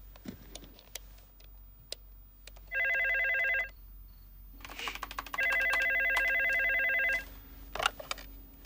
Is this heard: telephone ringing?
yes